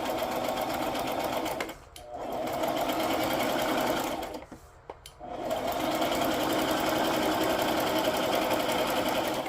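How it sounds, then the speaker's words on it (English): A sewing machine stitches around a fabric project base in a loud, steady mechanical whir, stopping briefly twice before running on continuously, with no talk. "I'm just gonna sew around the whole thing and not individually."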